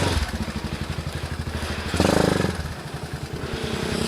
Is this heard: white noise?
no